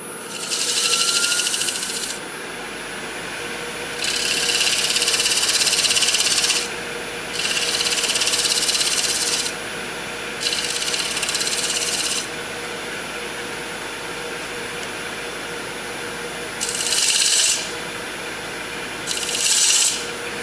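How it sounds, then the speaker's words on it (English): An old hacksaw strung with stainless steel safety wire rubs burn lines into a large wooden goblet, giving rasping friction strokes in repeated bursts of about two seconds, separated by short pauses, close and steady. "This is how I do my burning. This old hacksaw with some stainless steel safety wire in there."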